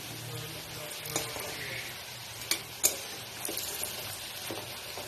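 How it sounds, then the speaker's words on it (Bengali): Pea lentil fritters fry in hot oil, a soft constant sizzle with a few sharp ticks and clinks from turning them, fairly quiet and without talk. "সাইড ভাজা হয়ে গেছে, এবার উল্টে দিচ্ছি।"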